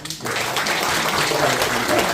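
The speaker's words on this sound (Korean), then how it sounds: "우리 한번 박수로" A church congregation applauding a newlywed couple at a Thanksgiving service, clapping that starts abruptly after a brief pause and continues as an even, sustained wash.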